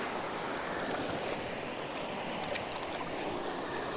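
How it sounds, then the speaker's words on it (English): Water washes and trickles over slippery sandy rocks along a shore, a steady, close, fairly loud broadband rush with no pauses and no voices. "Nice little water movement over these rocks"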